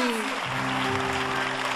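Applause from an audience at the MilleVoci 2017 show, steady clapping that continues beneath a sustained musical tone coming in, with a voice briefly at the start.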